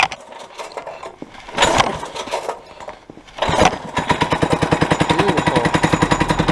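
A Manco Dingo go-kart engine, with the choke on, sputters through a couple of rough cranking attempts, then catches and settles into a loud, close, fast and even putter.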